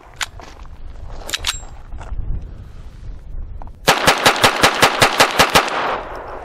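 Colt .22 pistol fired at an outdoor range, a rapid string of about ten sharp, evenly spaced shots in the second half, loud and close, after a stretch of quieter handling noise and faint distant pops.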